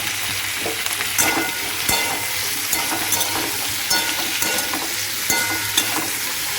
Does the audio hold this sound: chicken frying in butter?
yes